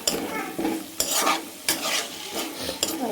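Curry leaf paste and carrot being stirred in a frying pan, a soft continuous sizzle broken by close, repeated scraping and clacking of a spoon against the pan in an uneven rhythm, with no talking.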